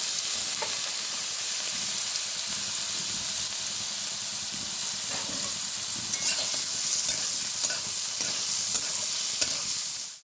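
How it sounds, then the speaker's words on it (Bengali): Chopped carrots fry in hot white oil, giving a loud, close, continuous sizzle and hiss with occasional stirring clatter. The sound holds steady throughout and cuts off abruptly at the end. "এবার আমি ছোট ছোট করে যে সবজিগুলোকে কেটে রেখেছিলাম সেই সবজিগুলোর মধ্যে আমি প্রথমে গাজরটাকে ভেজে তুলে নেব"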